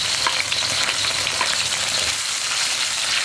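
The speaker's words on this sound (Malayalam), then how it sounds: "ഈ വെജിറ്റബിൾസ് ഒന്ന് നമുക്ക് വഴറ്റിയെടുക്കാം. ഹൈ ഫ്ലെയിമിൽ വെച്ചിട്ട് തന്നെ വെജിറ്റബിൾസ് ഒന്ന് നമുക്ക് കുക്ക് ചെയ്തെടുക്കാം." Chopped vegetables for chilli gobi sautéing over a high flame, a steady loud sizzle with occasional stirring scrapes, continuous and close with no voices.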